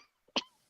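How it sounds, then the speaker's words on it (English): A single short, sharp cough, close and clear, preceded by a faint breath. "My cough is so bad tonight"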